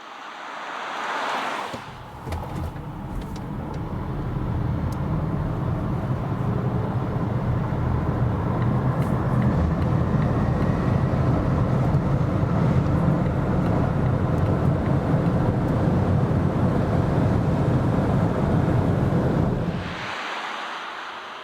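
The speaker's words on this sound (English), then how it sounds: "it's performance time. We're in Germany, German Autobahn, the new Volvo XC40 EV" An electric Volvo XC40 P8 AWD SUV, a 408 hp compact performance model, cruises on a German Autobahn. It gives a steady broad cabin roar of road and wind noise for most of the stretch, with no one talking.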